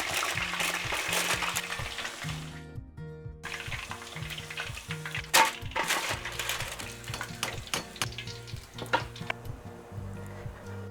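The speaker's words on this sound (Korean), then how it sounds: "온도 올려서 바삭하게 한 번 더 튀길게" Garaetteok rice cakes crackle and sizzle in hot oil during a second deep-fry for kkanpunggi, a steady frying hiss broken by scattered clicks and clatters, close and with no one talking.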